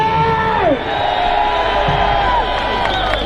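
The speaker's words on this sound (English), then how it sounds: "Give a big shout in this place!" A crowd at a February 2025 street protest in the UK shouts and cheers, with a sustained roar and whoops rising together at close range. A loud wash of voices holds steady throughout.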